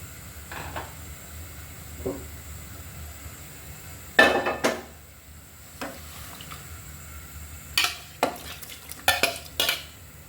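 Potatoes and vegetable stems stirred in a pan: a low background sizzle broken by sharp metal spatula clinks and scrapes against the pan, irregular and close, with no speech.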